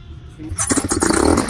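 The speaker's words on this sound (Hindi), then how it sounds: "लाइन क्लियर है इंजन स्टार्ट किया जाए" A paramotor engine catches partway through after a quiet lead-in, then runs as a loud, rapid, pulsing putter right up close.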